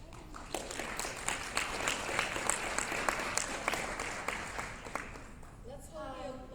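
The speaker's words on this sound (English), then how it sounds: "Let's hold your applause until the end" An audience at a law enforcement hiring panel claps steadily, with dense overlapping applause that holds at an even level for several seconds before fading at the end.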